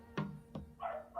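A dog barks twice in the background, short sharp yips spaced apart, followed by a higher whining or yelping sound, all faint behind a steady low hum in an indoor livestream setting.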